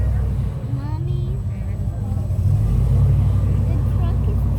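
An airboat engine on the water on a Florida alligator safari gives a loud, low, droning rumble that swells toward the end, while children and adults talk over it.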